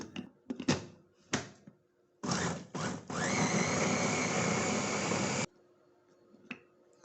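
An electric food chopper blitzes chicken meat and water to a fine paste, several short clattering pulses giving way to a steady loud whir of about two seconds that stops abruptly.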